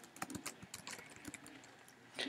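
Typing on a computer keyboard during a JavaScript coding walkthrough, a scatter of soft, irregular key clicks at close range against a quiet background.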